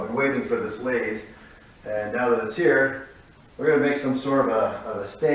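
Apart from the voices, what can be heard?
No everyday noise stands out behind the speech.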